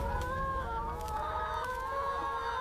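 Chickens and roosters on a poultry farm cluck and crow together in a dense, steady din, with several birds calling over one another close by and no break in the noise.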